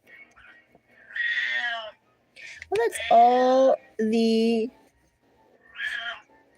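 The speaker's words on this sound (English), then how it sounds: "My cat is meowing lots." A pet cat meows repeatedly in a home, several close, drawn-out harmonic cries spaced across a few seconds, with a person talking briefly between and under them.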